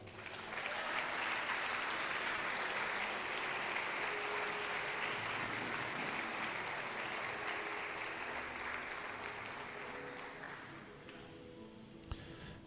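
A church congregation applauds, dense sustained clapping from a large crowd that holds steady for about ten seconds before tapering off into a few scattered claps.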